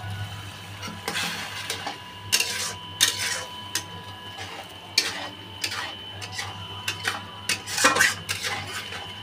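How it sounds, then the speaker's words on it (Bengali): Metal spatula clattering and scraping in a pan as masala is stirred and sautéed with a splash of water, irregular close clinks and scrapes over a low steady hum. "মশলাটা ভালো করে কষাতে হবে।"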